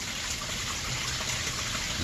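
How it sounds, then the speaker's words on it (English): A pond waterfall combined with a filter runs in a steady, full rush of splashing water, close and continuous without pause. "And the waterfall and the filter are all in one, so the sooner they get running the better."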